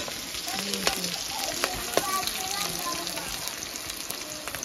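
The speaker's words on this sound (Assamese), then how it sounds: "এতিয়া ধুনিয়াকে এইখিনি পিয়াজটো ভাজি লৈছো" Steady crackling sizzle of onions frying in a hot pan, with a few sharp pops and a faint voice low in the background.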